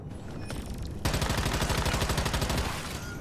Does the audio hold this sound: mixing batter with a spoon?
no